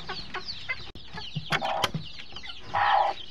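Chicken in a coop clucking nearby in scattered short clucks and a louder squawk-like burst near the end, alone without talk.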